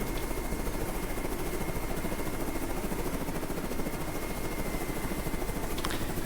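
A helicopter in the video game Carrier Command 2 gives off a steady, loud rotor and engine roar that stays constant and close throughout, with no voices over it.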